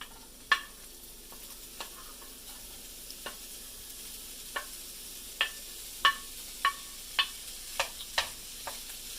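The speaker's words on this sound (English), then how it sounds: "Give them a little stir." Sausages cooking with softened vegetables in a pan, a faint steady sizzle punctuated by about a dozen sharp clicks of a utensil against the pan, spaced fairly evenly and growing more frequent toward the end.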